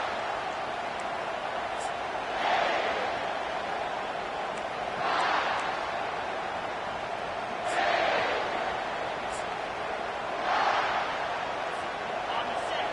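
Football stadium crowd at an LSU game roars in broad swells that rise and fall about every two to three seconds, sustained and distant-sounding, with a steady background hum between surges.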